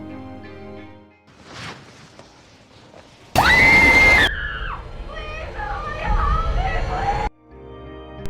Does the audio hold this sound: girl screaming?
yes